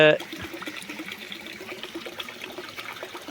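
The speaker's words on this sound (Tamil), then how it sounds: "இந்த ஒரு லிட்ரு தாய் திரவத்தை உள்ளே ஊற்றுறீங்க" One litre of dung-algae mother solution is poured into a container, making a close trickling, splashing sound that starts with a louder gush and then settles. A person talks over the pouring.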